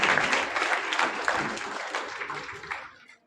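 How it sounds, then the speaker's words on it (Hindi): A crowd claps in loud, sustained applause that continues steadily, then thins out and fades near the end. "तो एक बार हिना भी के लिए जोरदार तालियां"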